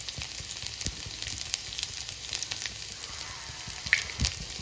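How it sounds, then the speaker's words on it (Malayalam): Finely sliced shallots frying with mustard seeds in hot oil, a steady close crackling sizzle with scattered pops and spits, no voices. "അതിൻ്റെ അകത്തോട്ട് ചെറുതായിട്ട് അരിഞ്ഞ് വെച്ച ഉള്ളി ഇട്ട് കൊടുക്കാം."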